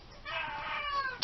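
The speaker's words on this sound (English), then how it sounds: "my cat is usually very quiet until I decide to record something, but she's meowing in the background" A pet cat meows continuously indoors, a drawn-out, moderately loud cry with a brief sharp chirp at the end; no talking over it.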